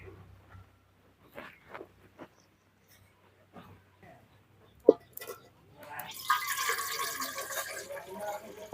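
Water is poured into a cooking pot for a village dish of moong dal with drumsticks. The splashing starts after a few faint clicks and brief sounds, builds into a steady pour toward the end, and is moderately loud with no talking.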